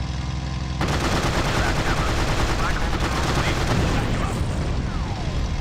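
Constant loud barrage of gunfire and explosions from a naval bombardment in the World War II flight combat game Secret Weapons Over Normandy, dense and unbroken throughout.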